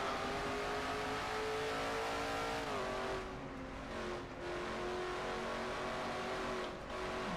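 Race car engine from a racing video game, an oval-style stock car series in-car view, revving steadily at high pitch with a brief dip in pitch mid-run as it heads into a turn, loud and continuous with no talk.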